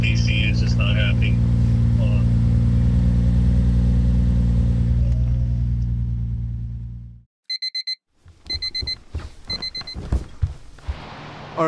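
A 1990s Toyota Soarer engine runs loud and close with a steady, thick drone for about seven seconds, then cuts out abruptly; a few sharp electronic chirps and scattered clatter follow.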